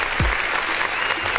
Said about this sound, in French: Des applaudissements déjà pour Yembeya